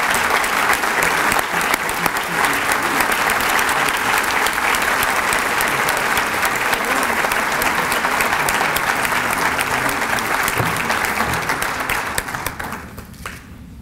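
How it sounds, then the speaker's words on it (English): A crowd at an employees-of-the-year celebration breaks into sustained, loud applause that holds steady for several seconds and then fades out near the end. "Congratulations,"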